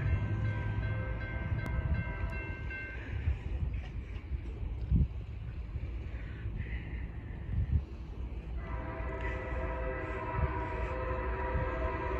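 A freight train rumbles steadily nearby at Brunswick on a cold day, its horn sounding long sustained tones at the start and again later, with rail noise continuing underneath.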